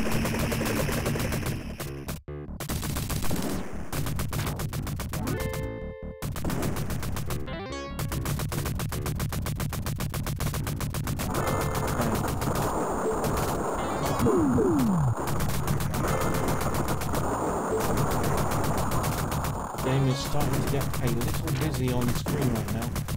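Rapid arcade gunfire and blasts from the 1988 TAD Corp shooter Cabal, a dense, continuous clatter of shots and crashes that fills the clip, with someone talking over it at times.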